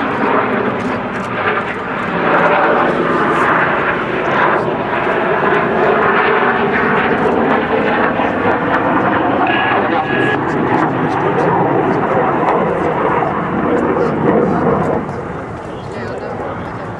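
A loud, roaring jet engine thunders overhead at the 2010 RAF Waddington air display, sustained and broad, swelling and easing slightly as the pilot works throttle against the extended air brake, then fading slightly.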